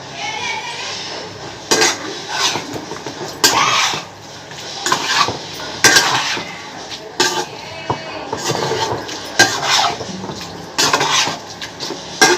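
Chicken being mixed with mint leaf paste in a metal pan, giving repeated scraping and clinking strokes of a utensil against the vessel in an irregular rhythm, close and fairly loud.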